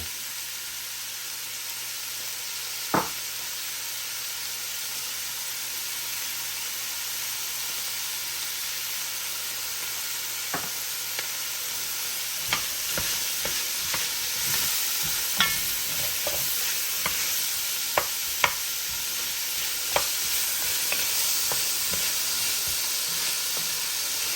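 Vegetables sweat in a pot for Kentucky burgoo stew, a soft steady sizzle and hiss running throughout, with a few sharp clicks of a spoon stirring against the pot scattered along the way, close and fairly quiet.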